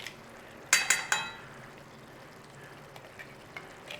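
Chicken ghee roast sizzling in hot ghee in a pan, a brief burst of loud crackling spatter followed by a quieter, steady low sizzle with occasional pops.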